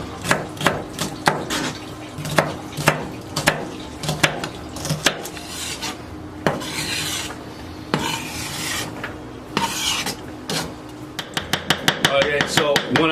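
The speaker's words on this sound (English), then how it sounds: "when I'm chopping onions and everything" A knife chops onions against a cutting board in a quick, irregular series of crisp taps, close by, speeding into rapid strokes at the end.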